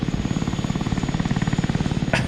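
An Osprey tiltrotor aircraft in the video game Broken Arrow makes a fast, even rotor chop that is loud and near, closing with a brief sharp burst.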